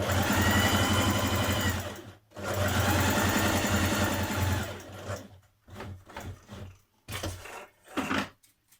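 A sewing machine runs a long-stitch seam on a skirt in steady bursts: one long run, a brief stop, a second long run, then shorter stop-start stitching toward the end.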